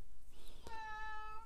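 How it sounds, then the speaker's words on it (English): A house cat gives a single clear meow, fairly close and tonal with a drawn-out tail, over a faint steady room hum. "That's my cat, Tig."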